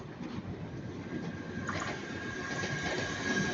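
A three-carriage Class 197 passenger train from Manchester Airport passes at Ardwick, a steady broadband rumble and rush of wheels and motors, fairly close and continuous, with no talk.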